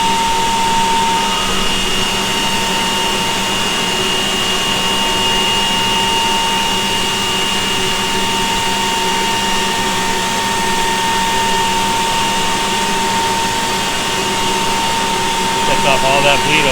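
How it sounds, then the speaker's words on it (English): A vacuum system in a sign-cutting machine at a graphics and nameplate shop runs as a steady, loud broadband whoosh with a constant tonal hum throughout, with speech faintly present. "It's got a vacuum in there that's going to suck all that most of the excess away."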